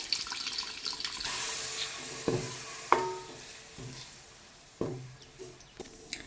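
Dissolved tamarind water is poured into masala frying in oil for a Chettinad sankara fish kuzhambu, giving a faint splashing pour, soft sizzle and a few sharp clinks of utensils against the pan.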